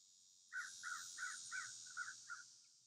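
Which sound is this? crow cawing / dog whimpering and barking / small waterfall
crow cawing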